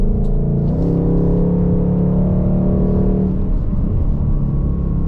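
A 2023 Ford Mustang GT Premium California Special accelerates hard from inside the cabin, its engine note climbing loud and steady, dropping at a gear shift, then climbing again.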